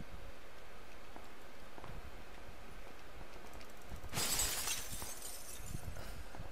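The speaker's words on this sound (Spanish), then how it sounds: "No, nada más quebré el vidrio." Glass window shattering in the video game PUBG, a single loud crash with a bright spray of breaking shards that bursts out suddenly and dies away within about a second, over low background game noise.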